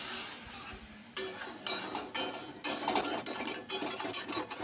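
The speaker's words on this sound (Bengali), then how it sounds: "এইভাবে ভালো করে বেশ খানিকক্ষণ নাড়াচাড়া করে এক বাটি জল দিয়ে দিলাম" Bitter gourd being stirred in a pan with a utensil, with repeated scraping and clinking strokes against the metal over a faint sizzle, loud and close with no talking.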